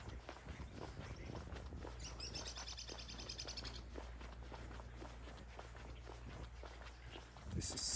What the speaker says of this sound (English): Lots of birds here in the morning, actually all day long.